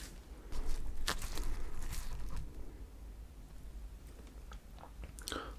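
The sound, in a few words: chewing and eating Oreo icebox cake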